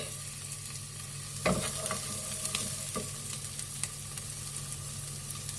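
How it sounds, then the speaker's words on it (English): Onions sauté in a small spoon of ghee, a steady quiet sizzle with a few stirring scrapes and knocks of a utensil against the pan, no voices. "1 small spoon of ghee, butter, just to saute the onions"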